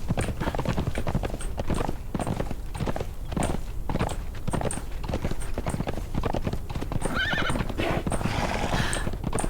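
A horse in the video game Conan Exiles whinnies loudly near the end while its hooves keep up a steady, close clip-clop rhythm over a constant background hiss.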